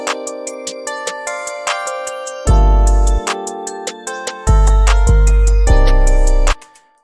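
An FL Studio hook for a trap beat plays bright, repeating synth notes over a clicking rhythm, then deep 808 bass notes enter late and boom in heavy sustained hits, loud and clean with no talking.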